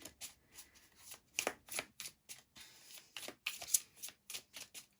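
Close-up shuffling of a tarot deck at a love reading, repeated sharp riffles and flicks coming in uneven bursts, fairly loud and free of speech.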